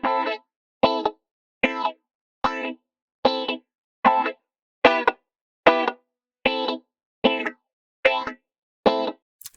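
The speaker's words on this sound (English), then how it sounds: "the phaser is also a good effect that we can use" Dub reggae guitar run through a phaser, playing about a dozen short, evenly spaced chord stabs with sweeping, swirling tone, loud and close with silence between each hit.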